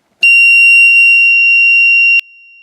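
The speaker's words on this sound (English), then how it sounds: "when I switch on, you should hear an annoying beep from this while it calibrates" A homemade motion sensor buzzer emits one loud, piercing continuous beep lasting about two seconds while calibrating, then cuts off sharply, leaving a faint residual tone.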